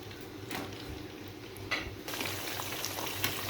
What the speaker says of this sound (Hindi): ऑयल हमारा गर्म हो गया। अब हम इसके अंदर रखेंगे चरखा।